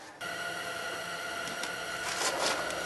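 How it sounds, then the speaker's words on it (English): Space heater running behind the camera in a garage during front suspension reassembly, a steady broadband whir with a faint tonal hum that rises slightly in loudness, with no talking. "That noise you hear right there is a heater behind the camera there."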